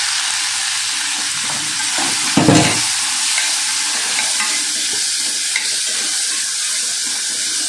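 Boiled banana stem with salt is poured into a pot and stirred, giving a steady watery hiss, one heavier splash-like thud early on and faint stirring scrapes, with no one talking.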